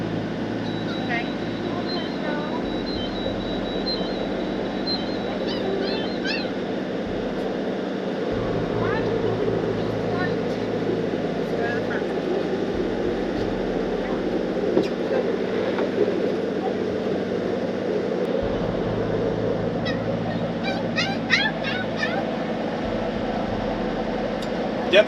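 Sailboat diesel engine revved up to 1800 RPM while the keel drags through shallow mud, a steady low droning rumble with mechanical hum throughout, voices talking over it.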